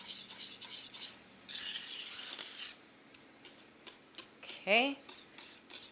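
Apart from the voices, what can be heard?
stirring custard filling for galaktoboureko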